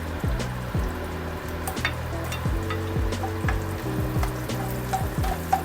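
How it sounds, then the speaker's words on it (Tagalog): Onion and garlic sauté in a hot pan, with a steady sizzle and frying crackle running throughout and a few clinks and scrapes of stirring over it, close and clear, with no talking. "gisa muna natin ang sibuyas at bawang"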